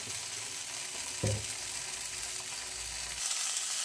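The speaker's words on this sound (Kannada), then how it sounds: "ಇವಾಗ ಇದು ಚೆನ್ನಾಗಿ ಎರಡು ಸೈಡ್ ಇದ್ದು ಫ್ರೈ ಆಗಿದೆ" Masala fish frying in coconut oil in a pan, a steady soft sizzle with a brief louder burst partway through, then the sizzle fading near the end.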